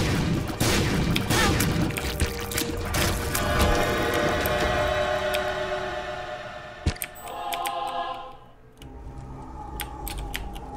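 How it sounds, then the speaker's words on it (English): Rapid bursts of explosions and mechanical clatter from The Binding of Isaac: Rebirth gameplay fill the mix loudly and densely, then thin into a few sharp isolated pops near the end. "I don't know what causes those explosions."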